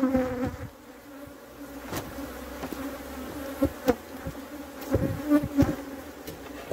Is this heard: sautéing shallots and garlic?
no